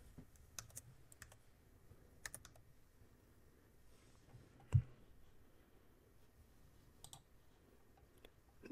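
Sparse, faint clicks of a computer mouse in a quiet room, a few single and paired taps spread out, with one sharper click near the middle.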